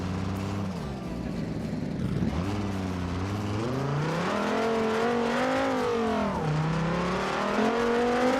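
A supercharged drag car engine in a driving video game revs steadily, its pitch rising and falling in long sweeps under a constant loud whine, with no voices.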